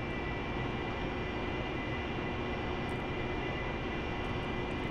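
AV-8B Harrier jet in the DCS flight simulator landing on a conventional runway, a steady loud engine roar with no pauses, heard alone and without voices.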